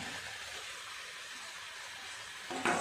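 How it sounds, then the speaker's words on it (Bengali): Fried potato and eggplant going into a spiced onion-tomato masala in a pan, a steady soft sizzle of frying that swells suddenly into a louder hiss near the end as the pieces land. "দিয়ে দেবো ভেজে রাখা আলু আর বেগুন"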